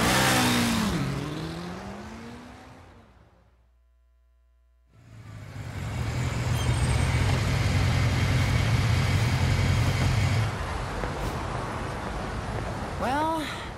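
A car in the video game 13 Sentinels: Aegis Rim roars at full throttle, a loud engine surge with rising revs that cuts out, then returns as a sustained drone before easing off near the end.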